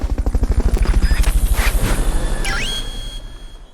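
A helicopter in the video game Metal Gear Solid: Peace Walker thumps with loud, rapid rotor beats that gradually soften, and a brief whistling tone rises near the end.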